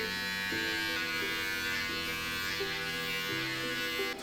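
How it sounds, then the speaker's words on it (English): An electric shaver buzzes steadily and close up through the whole stretch, its motor pitch stepping slightly as it is pressed against skin and hair, with no talking. "So we're shaving."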